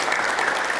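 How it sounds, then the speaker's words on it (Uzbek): A burst of audience applause during a Brain Ring quiz game rewards a question, with dense, steady clapping that fills the short moment without a break. "Olqishlarga arziydigan savol edi."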